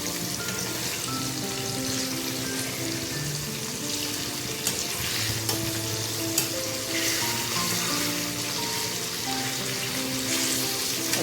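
Catla fish pieces frying in a pan, a loud, continuous close-up sizzle and spatter with occasional stirring, set against faint tonal background music.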